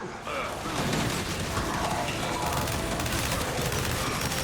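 Gears 5 combat on Xbox One: a frag grenade blast and dense gunfire make a loud, continuous barrage of booms and rattling shots, with a voice calling out over the din.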